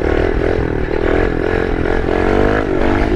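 A 110 pit bike engine revs hard and steadily, loud and close throughout, with a continuous buzzing drone as the rider pulls a wheelie.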